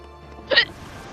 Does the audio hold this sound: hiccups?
yes